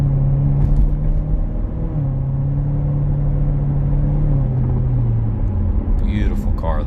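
A 2017 Chevrolet Corvette Z06 3LZ with a low engine drone while driving, its pitch stepping down at gear changes near two and five seconds, loud and close inside the cabin.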